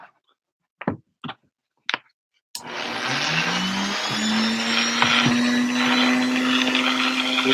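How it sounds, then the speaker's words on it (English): A few quiet knocks and taps, then a Dremel rotary tool whirs to life cutting a notch in a helmet, with a high, steady whine that rises slightly as it keeps running. "So let's Dremel this out."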